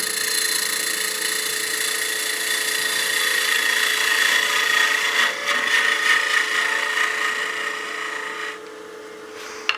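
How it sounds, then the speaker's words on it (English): A peel cut on the end grain of a wooden bat house ornament spinning on a wood lathe gives a steady, fairly quiet scraping hiss that runs continuously and drops away just before the end. "We'll do a peel cut here just to clean up the end"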